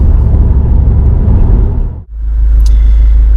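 A Subaru WRX STi's engine drones loud and steady from inside the car while driving, dipping briefly to near silence midway before the engine and road rumble return at full strength.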